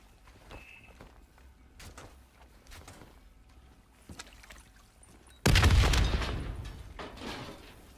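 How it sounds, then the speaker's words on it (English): A loud explosion in the video game Black Ops 3 bursts suddenly after quieter footsteps and game ambience, a heavy broadband boom that slowly decays with rumbling debris. "The explosion blocked our path."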